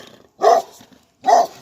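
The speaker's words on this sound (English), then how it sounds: "Dog! You see this damn big dog?" A big dog barks twice, loud and close, with a short pause between the deep barks and quiet in between.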